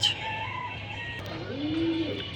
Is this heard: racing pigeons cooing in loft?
yes